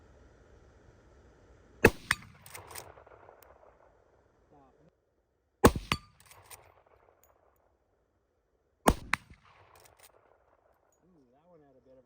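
Lever-action rifle fired three times, each a sharp loud crack spaced a few seconds apart with a short ringing tail suggesting a ricochet, faint quiet between shots.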